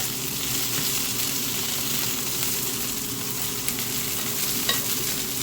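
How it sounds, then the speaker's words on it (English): Vegetables sauté in hot oil in a pot roast preparation, a loud, continuous close-up sizzle with a low steady hum beneath and a couple of light clicks near the end. "we're just gonna kind of get these sauteing. I've let them sit in the hot oil for a minute"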